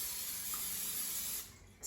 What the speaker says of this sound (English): I will spray it with a non-stick cooking